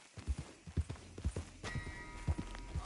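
Horse hooves clip-clop in Red Dead Redemption 2, a run of close, distinct thuds in an uneven walking rhythm with faint background sound.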